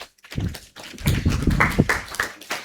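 A small group claps at a project management training session, a short burst of uneven hand claps and taps that starts after a brief pause.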